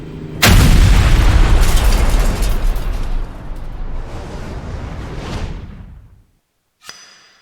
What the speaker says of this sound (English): Cue the explosion.